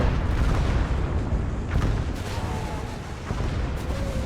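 A 152 artillery barrage pounds the ground during an infantry push in the WWII game Gates of Hell, dense rumbling booms rolling continuously and loudly, with a few sharper blasts standing out near the middle.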